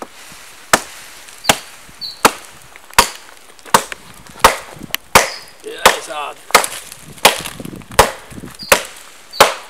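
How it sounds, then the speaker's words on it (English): Steady, repeated hard chops into wood, roughly one per second, crisp and close with splintering cracks; a voice briefly speaks between strikes. "And we start hacking down in this tree here."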